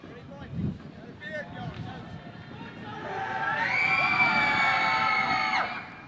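Crowd noise from spectators at a 1997 high school boys basketball game between Nokomis Regional and Hampden Academy, swelling from a murmur into loud sustained shouting and cheering while a player shoots a free throw, with scattered voices underneath.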